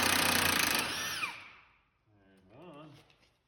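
A pneumatic impact gun whirs loudly while removing stuck wheel bearing fasteners, its whine dropping in pitch as it spins down, followed by a person talking.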